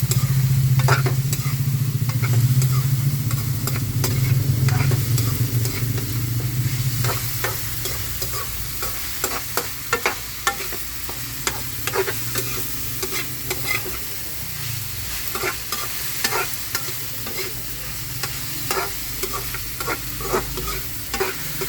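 Food sizzles and fries in a pan while a utensil stirs and scrapes, loud at first and then settling into a quieter crackle broken by repeated sharp scraping clicks.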